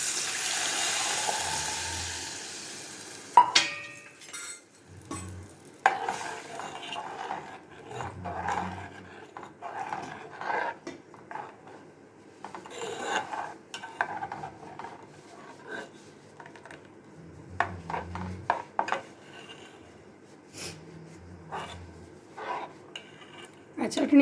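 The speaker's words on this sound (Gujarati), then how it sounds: "હવે આ જે ચટણી આપણે પીસી છે તે બધી જ અંદર એડ કરી દઉં છું." A spoon scrapes and clinks in a pan as ground coconut chutney is stirred in with fried urad dal, in short, intermittent strokes with quiet pauses between.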